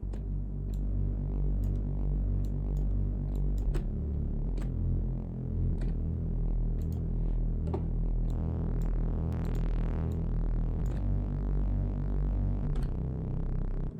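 A deep, sustained sub-bass synth tone with a throbbing low hum and occasional faint clicks, continuous and fairly loud throughout.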